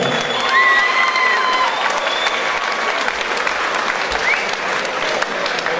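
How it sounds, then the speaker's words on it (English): A cage-fighting crowd gives sustained applause after a flyweight bout, steady clapping mixed with scattered cheers and whistles, with a voice talking over it. "Big round of applause for both these fighters in this flyweight encounter."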